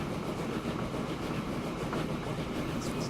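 Steady, dense rumble of a train ride in the video game Transport Fever, heard on board on the East Coast Main Line map, a continuous rolling roar without pause and no talk.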